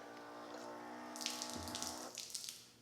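A beverage poured from a hose into a cup: a steady, faint liquid stream with a hollow hiss that rises as the cup fills, then spatters briefly near the end, with no talk.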